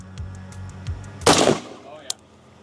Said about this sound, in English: sniper rifle. Firing.